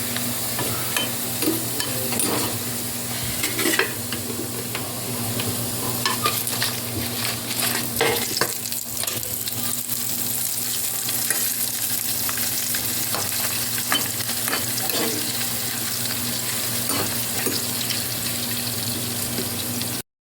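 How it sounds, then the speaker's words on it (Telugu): Appadalu (papads) frying in hot oil, a steady close sizzle with stirring and faint clatter running continuously throughout, no talk. "అన్నీ వేయించుకున్నాక అప్పడాలు వేయించుకోవాలి"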